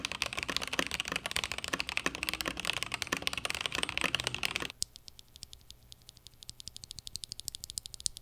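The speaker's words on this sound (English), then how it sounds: "I'll also include a sound test real quick of the TTC Pinks, which are surprisingly clacky, surprisingly smooth, with no spring ping in the stock condition." Close typing on an Iqunix L80 keyboard with stock TTC Pink switches: fast, busy clacky keystrokes with louder overlapping bursts, then a sparser, quieter run of individual key presses.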